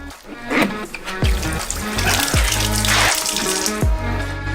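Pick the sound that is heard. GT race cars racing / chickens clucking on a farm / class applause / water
water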